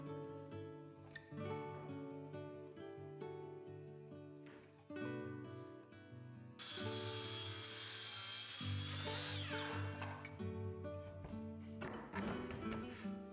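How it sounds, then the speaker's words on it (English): A circular saw cuts plywood near straight layout lines while a stool is being built. The blade's harsh, broadband whine comes in about halfway through and keeps going, loud and steady over a tonal background. "I'm cutting close to the outer straight lines with a circular saw, staying about a 1/4 inch away from the line"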